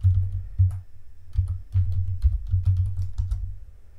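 Close keystrokes on a computer keyboard, tapped in short uneven bursts with small pauses as a username and password are entered for a Kali Linux login in VirtualBox, over a deep low hum.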